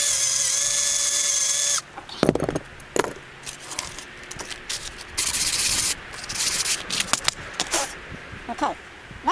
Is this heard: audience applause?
no